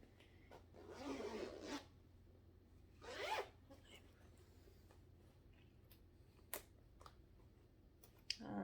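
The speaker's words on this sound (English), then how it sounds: "Oh no, I don't want to break the zipper on this." A stuck zipper on a cross-stitch project bag is tugged in two quiet, close rasping pulls, one longer and one short, followed by soft handling clicks and rustles.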